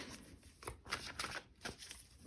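Tarot cards being shuffled by hand, a soft papery riffling with several brisk bursts of flicking, fairly quiet and close, with no talking.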